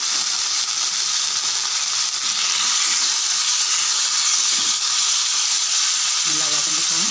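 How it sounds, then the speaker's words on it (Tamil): Chopped tomatoes go into a hot pan of sautéing green chillies, producing a loud, steady sizzle and hiss that runs continuously throughout, with faint stirring noises underneath. "பச்சை மிளகாய் வதங்கினோடனே நம்ம கட் பண்ணி வச்சுருக்க தக்காளியை அப்படியே போட்டுருவோம்."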